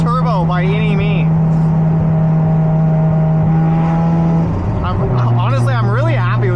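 A turbocharged Mazda FD RX-7 rotary engine holds a loud, steady drone on a dyno, then drops and changes pitch, with people talking and reacting over it.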